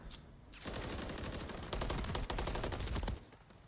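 Rapid automatic gunfire and pistol shots ring out in a Call of Duty League Hardpoint match between Miami Heretics and Minnesota ROKKR on Map 1, loud dense bursts building from a brief lull into sustained firing before cutting off.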